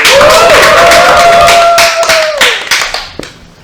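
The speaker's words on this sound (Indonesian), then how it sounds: "Tepuk tangan dong, tepuk tangan dong." Hand clapping greets a co-host at the start of a podcast episode, a quick run of sharp claps lasting a few seconds with a sustained whistle-like tone over them, fading at the end.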